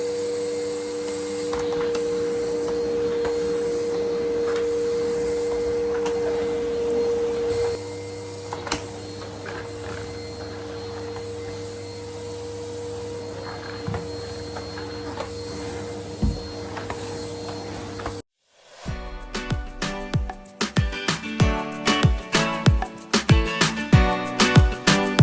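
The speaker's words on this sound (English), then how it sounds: "vacuum the floors in my toilet and my bathroom before mopping them, rather than sweeping" A vacuum cleaner runs across bathroom and toilet floors with a steady, close whine and drone. After the motor cuts out, a brief silence is followed by a string of sharp knocks and clatter.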